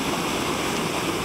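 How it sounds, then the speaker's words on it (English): The floodwater of the River Esk at Danby in the North York Moors rushes past during Storm Ciaran, a loud, steady, close roar of flowing water with no voices. "it flows down into the river down there"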